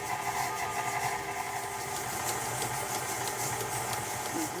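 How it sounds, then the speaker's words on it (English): A stand mixer with a paddle attachment creams butter and sugar for a Louisiana praline pound cake, giving a steady, continuous motor whir with a faint rhythmic rattle, close and unbroken. "I use my paddle attachment to get this all creamed together, and we'll let this go for about maybe 5 minutes"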